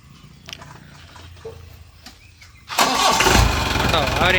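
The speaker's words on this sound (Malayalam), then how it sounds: "ഇനി നമ്മുടെ MDI ജീപ്പിൻ്റെ എൻജിൻ സൗണ്ട് ഒന്ന് കേൾപ്പിക്കാം." A 2003 MDI diesel Jeep sits quietly amid faint clicks, then cranks and fires up suddenly, running at a loud, steady idle at close range for the last couple of seconds.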